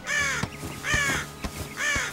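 A crow in a French cartoon caws three times in a slow, even rhythm, each call loud, harsh and close, with no talk over it.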